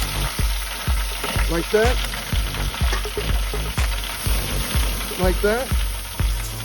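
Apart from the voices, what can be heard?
tomahawk steaks searing on the grill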